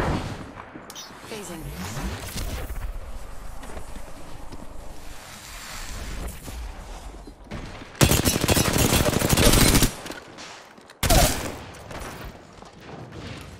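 Bursts of rapid gunfire in the Apex Legends battle royale game on Kings Canyon, loud sustained volleys cutting in over wind-like ambience and movement noise, with a player talking briefly.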